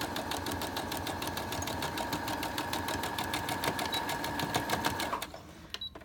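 A sewing machine back-stitches along fabric with a fast, steady mechanical chatter that runs close and loud for about five seconds, then stops abruptly, leaving a few faint clicks.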